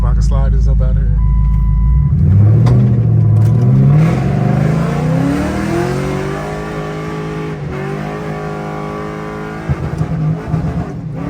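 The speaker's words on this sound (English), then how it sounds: "It sound better because it ain't got all that exhaust leak noise." A Ford Crown Victoria V8 with a freshly repaired exhaust leak revs up loud and close, its deep rumble climbing in pitch and then easing back to a steady idle, with no voices over it.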